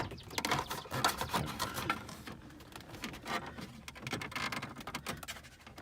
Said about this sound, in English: Now I'm sliding the trim.